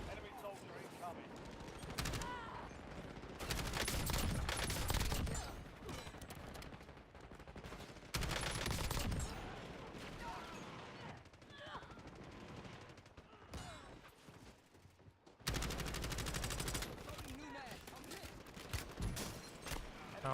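Gunfire in the video game Warzone comes as repeated bursts of rapid shots, loud and close, with quieter gaps between them and game voice chatter mixed in.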